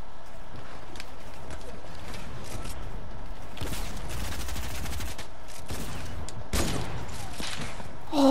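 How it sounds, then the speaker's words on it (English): Gunfire in the video game Fortnite during a duo match, heard as a few sharp distant shots and a brief volley against steady game ambience. "I got sniped at."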